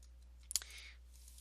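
A short burst of computer keyboard clicking, a few quick keystrokes close to the mic in a quiet room with a steady low hum behind.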